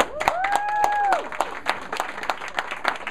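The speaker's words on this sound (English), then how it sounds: "Let's get a round of applause." A studio audience claps for a radio show, a steady patter of hands under a brief rising electronic jingle tone, moderately loud and close.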